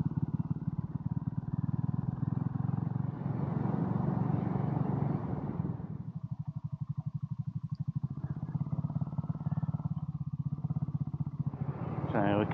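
A motorcycle ridden along a country road through Cornwall, near a town junction, its engine droning steadily and loudly throughout while the bike leans into bends, with someone talking over it.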